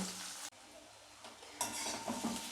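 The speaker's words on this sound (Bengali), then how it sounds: "কষিয়ে নেব" Spice paste with crushed ginger and green chilli sautéed in a hot pan for a country chicken dish, an even sizzle that briefly cuts out, then returns louder with spoon scrapes against the metal.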